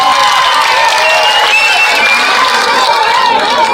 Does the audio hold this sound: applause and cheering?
yes